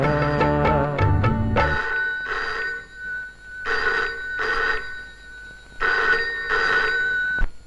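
A landline telephone bell rings loudly in bursts of two, repeating several times with short pauses, following a brief stretch of music at the start.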